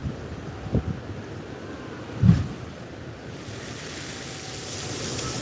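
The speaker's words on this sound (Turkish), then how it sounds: "bak bak metrelerce yukarıya çıkıyor su" Ocean surf at the Kiama blowhole in New South Wales, water surging through a small rock hole and spouting high, heard as a steady wash of waves and wind with two brief low thumps near the start.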